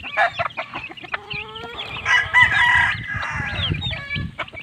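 Chicks and chickens being fed in a coop give off a busy mix of close clucking, a rooster's crow, and high chirping peeps, loud and continuous with no talking.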